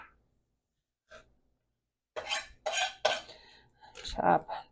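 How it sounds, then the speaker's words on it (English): A knife chops onion into small pieces on a cutting board, with a couple of soft early taps followed by a burst of close, irregular chopping strokes, no talk. "So chop it small."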